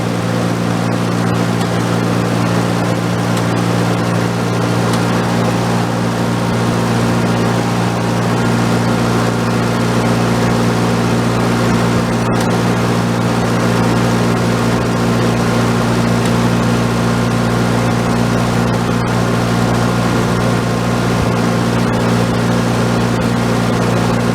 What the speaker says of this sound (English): you'll see all those little squares wiggle and climb as I increase the RPM on the engine.